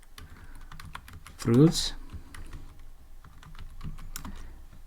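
Python code being typed on a computer keyboard, rapid irregular key clicks running close and steady throughout, with a brief spoken word breaking in near the middle.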